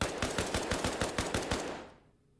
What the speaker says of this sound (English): it also sounds like the gunshots are different in buildings.